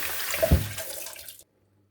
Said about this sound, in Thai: เดี๋ยวไปล้างพับพิกาก่อน ล้างแบบนี้